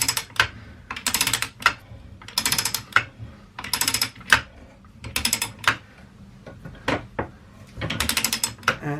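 An Alrowa No. 25 hand pipe threader ratcheted onto pipe, repeated bursts of close, loud rapid clicking from the pawl, each burst about half a second long, separated by brief pauses, with no talking.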